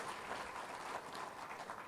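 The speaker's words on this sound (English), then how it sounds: "A round of applause to them." Applause from an audience at a TVET program event in Kenya, a steady dense patter of clapping that stays fairly quiet and even throughout, with no voices over it.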